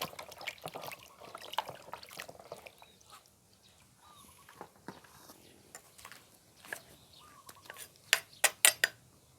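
Water rinsing sliced eggplant in a bowl, with a faint trickle and splashing under soft clinks of utensils and dishes, ending in a few sharper knocks.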